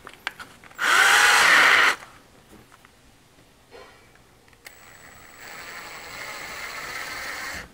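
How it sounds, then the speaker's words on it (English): A power drill with a dull bit bores holes into a custom quarter-scale Wolverine sculpture, one loud burst of about a second, followed by quieter workshop noise. "this bit's really dull because it's drilled a lot of holes lately"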